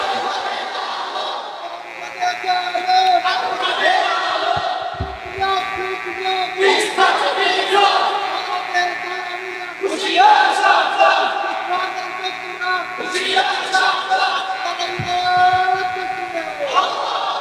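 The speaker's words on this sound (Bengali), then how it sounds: "দাঁড়া একজনে তাকবীর দেন দেখি।" A crowd at an Islamic sermon in Bangladesh roars the takbir in repeated loud, rhythmic waves of massed shouting, close and sustained, with a leading voice calling between the responses.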